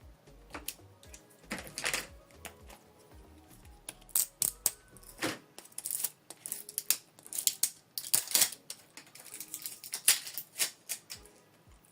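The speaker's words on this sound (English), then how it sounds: "Pull off, remove this plastic." Protective plastic tape being peeled and pulled off a Canon Pixma TS8750 ink cartridge, a series of close, sharp crinkling and tearing bursts with short pauses, no talking.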